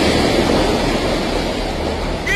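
A continuous roar of ocean waves churning and washing, loud and close, with no voices.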